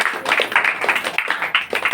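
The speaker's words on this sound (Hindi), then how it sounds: "यहाँ पे ताली बजाना था, ताली तक नहीं बजाते।" Audience at a Sunday prayer meeting clapping in quick, even rhythm, a close and dense run of hand claps filling the whole moment.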